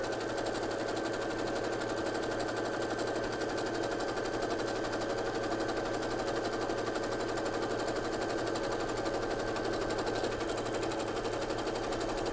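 A sewing machine runs continuously with a cording foot, stitching elastic thread on a zigzag stitch, a fast steady mechanical rattle held at even loudness throughout.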